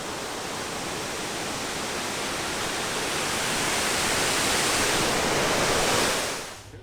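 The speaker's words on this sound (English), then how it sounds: "Had a pretty good look at the falls there, right, Bald River Falls." Bald River Falls in the Smoky Mountains area pours as a steady, dense roar of falling water close by, a broadband rush that swells slightly before trailing off at the end.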